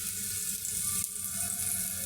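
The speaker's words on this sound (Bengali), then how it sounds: "কষানোর পরে আমি একটু পানি দিয়ে দেবো" Water poured into a pot of chicken feet curry after the spices have been fried down, a short, steady trickling splash with faint sizzling underneath and no talking.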